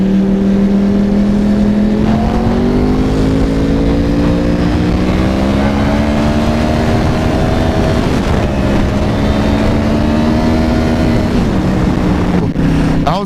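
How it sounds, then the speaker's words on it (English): Yamaha R1 motorcycle with an inline-four engine revving hard, a loud, deep, throaty roar whose pitch climbs and dips across several sustained pulls, close and alone without talk. "The fact that Yamaha made an inline 4 motor almost sound like a V8 muscle car is just insane."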